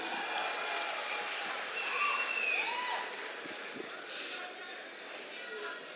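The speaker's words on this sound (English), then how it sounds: "That should have a bigger applause, ladies and gentlemen." An audience claps at a celebrity interaction with an Indian cricket star, a steady, dense wash of applause that holds throughout, swells briefly, then eases slightly.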